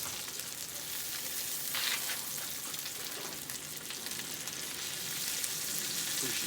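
Three eggs frying on a hot griddle with onions for breakfast sandwich smash burgers, a steady bright crackling sizzle, fairly close and continuous, with no one speaking.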